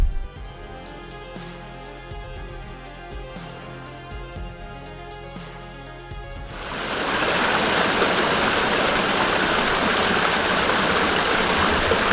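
A small stream of running water crossed by a footpath on a countryside walk near Baslow, Froggatt and Curbar edges; after a quieter stretch a loud, steady broadband rush of flowing water swells up close and continues alone.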